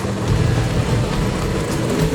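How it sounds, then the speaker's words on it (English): A race car running a FuelTech FT700PLUS at World Street Nationals roars loud and close with a steady, rough engine drone that holds throughout, no voices over it. "Oh, the sweet sound of race cars."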